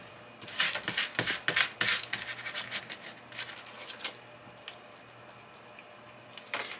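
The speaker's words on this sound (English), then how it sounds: "My bracelet's making a tad more noise than usual today" A bracelet jangles and clinks in bursts of bright metallic rattles during paper crafting for a junk journal, close and fairly loud, with quieter shuffling and taps in between and no talking.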